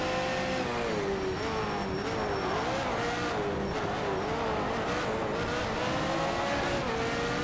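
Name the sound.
race cars braking into corner in video game Need for Speed Shift 2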